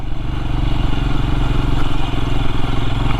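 A 2023 Royal Enfield SCRAM 411 single-cylinder motorcycle climbs a gravel hill without a gear change, its engine giving a steady, throbbing low thump under load, loud and close throughout.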